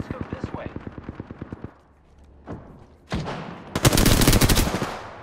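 Rapid automatic gunfire in an online shooter game, a quick even string of sharp shots at first, then a pause and a louder, denser burst of fire near the end, with players talking over it.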